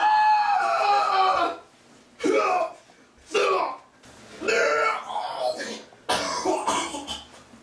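Harsh, raspy coughing and throat-clearing bursts in a PC strategy game, Stronghold: Warlords, coming in several separate loud fits with brief pauses between them.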